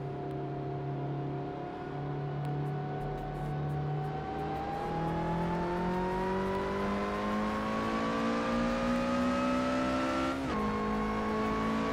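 A race car in the Assetto Corsa sim racing game revs toward very high RPM, its engine note rising steadily through gear changes, with a sharp drop near the end before it climbs again, loud and continuous without talk.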